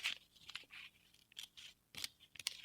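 Scissors cutting fabric while sewing a western blouse, several short crisp snips spaced irregularly, close and fairly quiet, with no talking.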